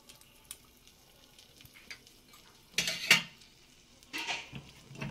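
Spices, grated ginger and ground black pepper for a Bengali jackfruit curry being stirred in a pan, sparse soft clinks followed by two louder bursts of scraping and sizzling.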